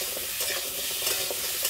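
Raw banana pieces frying in a pan with a little salt, giving a steady close sizzle with faint scraping and stirring taps throughout, no voices.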